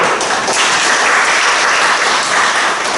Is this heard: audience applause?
yes